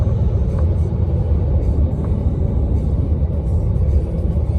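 A car cruises along an American highway, heard as a steady, loud low road rumble and engine drone from inside the vehicle, continuous and unbroken throughout.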